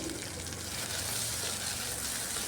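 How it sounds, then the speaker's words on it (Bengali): Onion, garlic and ginger spice paste frying in a pan for chicken gravy, a steady dense sizzle close by that holds evenly throughout with no talk. "এখন একটু ফ্রাই করলেই হবে, বেশিক্ষণ মশলাটাকে আর কষাতে হবে না।"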